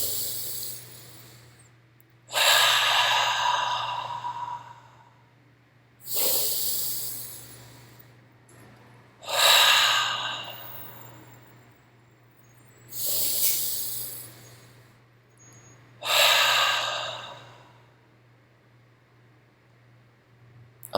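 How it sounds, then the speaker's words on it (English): Five slow, deep breaths drawn through the nose, each a rising airy hiss followed by a quiet pause, evenly spaced over a low steady hum in a guided group breathing session. "Let's take 3 breaths together."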